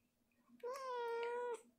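A cat close by lets out one long, drawn-out meow that lasts nearly a second, set against a quiet room.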